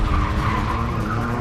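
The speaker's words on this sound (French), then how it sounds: "Dans la vidéo originale, la voiture fantôme fait demi-tour" A car skids hard through a U-turn, its tires squealing loudly and continuously over the engine's roar for a brief moment, with no voices.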